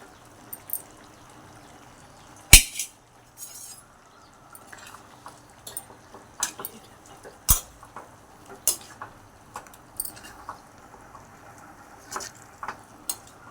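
Soaked pakodas tipped from a vessel into an onion-tomato curry in a pan, heard as scattered soft plops, wet pattering and utensil clinks, one sharp clank early on, in a quiet kitchen.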